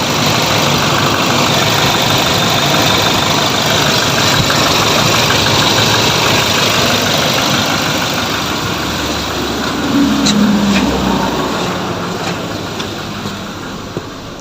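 A Toyota Innova 2.8 engine idles with a steady, loud diesel rumble and slight knocking texture, close by and unbroken, easing a little quieter toward the end.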